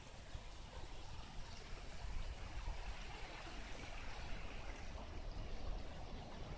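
Steady rushing water of Darby Creek in Drexel Hill, a continuous broadband wash with no pauses, moderately close and even throughout.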